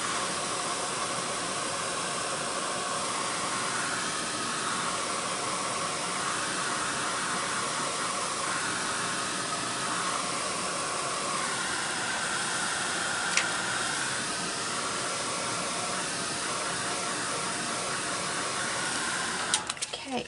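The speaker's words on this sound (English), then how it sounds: "I might have to stop using the heat gun" A heat gun blows hot air over a fabric journal, a steady, moderately loud whooshing hiss that runs unbroken throughout, with a couple of faint clicks near the end.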